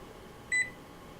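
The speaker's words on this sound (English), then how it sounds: "We're then going to set a timer for" A kitchen timer gives a single short electronic beep while being set, over a faint steady room hum in a home kitchen.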